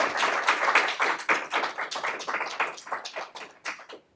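An audience claps at a Hudson Institute book talk, steady overlapping claps from a moderately sized crowd that gradually thin out and fade over about four seconds.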